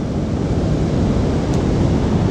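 Sea waves roll in steadily at a small harbour, a continuous broad wash of surf with some wind buffeting the microphone, loud and close throughout with no voices.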